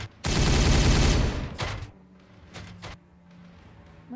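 Heavy gunfire in Warhammer 40K Regicide: a loud, dense volley roars for over a second, then two short bursts of shots follow against a quieter background.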